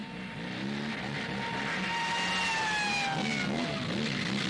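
A motorcycle engine revs during a chase in a film, its whine climbing and then easing off, loud and close, with no speech over it.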